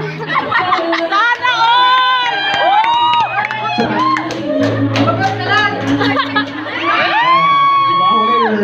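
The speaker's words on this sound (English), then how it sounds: "let's give them once again another big round of applause" A wedding reception crowd cheers and shouts loudly for the first dance, with excited voices and whoops layered over steady chatter and no distinct clapping.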